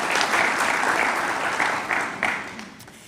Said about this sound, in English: A round of applause for them all, please.